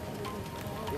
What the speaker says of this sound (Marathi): सांगलीच्या शिराळा तालुक्यात धुवाधार पाऊस पडतोय।